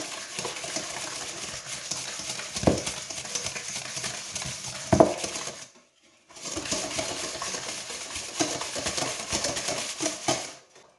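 Butter, sugar and egg being mixed into dough in a bowl for jam cookies, a continuous scraping and stirring that breaks off briefly partway through, with a couple of sharper knocks against the bowl, close up.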